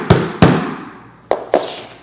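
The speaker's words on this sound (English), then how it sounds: "I like to take the hammer by itself first to get the nail flush" Four sharp hammer blows ring out close by, driving a nail flush into baseboard trim: two quick strikes, a pause, then two more, each with a short metallic ring.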